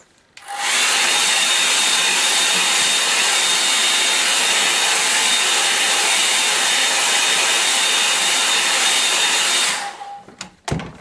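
Hair dryer switched on and blowing continuously for about nine seconds, a loud steady airy hiss with a thin whine, then cut off.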